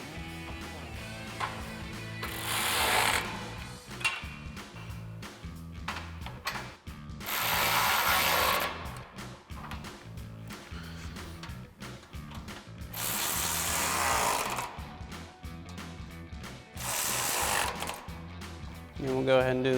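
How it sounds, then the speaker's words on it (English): A ratchet with a T40 Torx bit on an extension tightens brush guard bolts on a 2021-2023 Ford Bronco, heard as four bursts of fast close clicking separated by pauses, with a person talking in the gaps. "grab, again, your T40 Torx bit with an extension this time on your ratchet"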